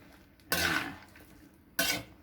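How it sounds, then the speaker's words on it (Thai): A spatula scrapes through pork being stir-fried with red curry paste, long beans and coconut milk in a pan. Two short, close scraping strokes stand out over a quiet background. "ผัดไปให้ทั่วนะครับ"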